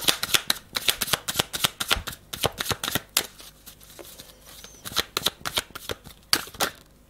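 Tarot cards are shuffled and handled up close, in quick bursts of crisp riffling snaps and flicks with short pauses between rounds, and no voices.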